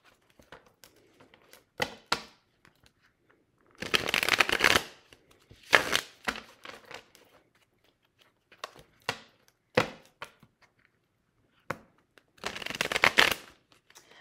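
A tarot deck is shuffled in bursts of dry riffling card noise, several long shuffles broken by short taps and flicks of cards, close and fairly quiet, with no one talking.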